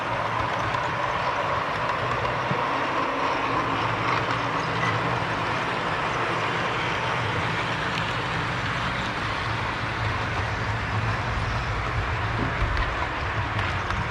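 Steady rumble from inside a moving train, with a continuous low drone and faint rhythmic clatter and no voices.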